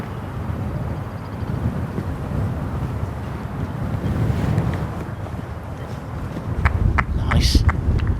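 Wind gusts buffet the microphone on a golf course during a tournament round in windy conditions, a steady low rumble throughout that swells near the end, while a commentator talks over it.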